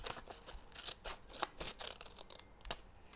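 Scissors trimming the edges off a sewn paper, tea bag and fabric collage tag: a quiet, close series of about a dozen crisp snips in an irregular rhythm, with no talking.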